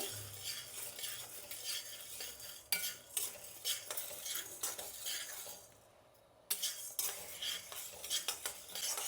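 Chana dal and urad dal are dry roasted in a pan without oil, a spoon scraping and stirring in quick repeated strokes with light clinks of metal and a faint sizzle, fairly quiet, with a brief lull partway through.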